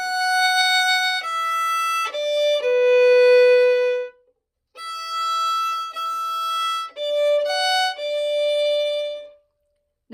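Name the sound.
violin playing Cielito Lindo melody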